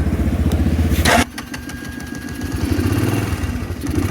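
Low-priced used motorcycle, left standing for a long time with a weak battery, starting up: a sharp burst of engine revving, then a steady, rhythmic idle putter that swells slightly toward the end, close by.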